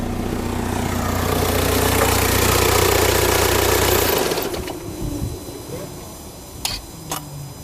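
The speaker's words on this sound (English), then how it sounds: "when I'll switch the engine off, you can hear this valve closing and opening again" A 2.0 TDI diesel engine runs and then shuts off, followed by a couple of quiet mechanical clicks as the intake manifold flap valve snaps closed and open again.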